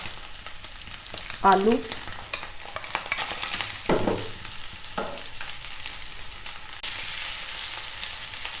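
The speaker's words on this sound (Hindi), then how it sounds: "सबसे पहले हम इसमें शामिल करेंगे चिकन को हम 1 मिनट फ्राई करेंगे" Chicken fries in a pan while a chicken bread roll filling is cooked. A continuous sizzle is broken by several scraping stirs, and a voice speaks briefly.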